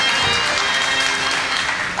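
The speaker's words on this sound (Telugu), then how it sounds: "అమ్మగారికి ఒకసారి గట్టిగా చప్పట్లు" Loud, dense applause from a theatre audience at a Telugu padya natakam (verse drama) performance in Kurnool, a steady wash of clapping filling the hall from start to finish.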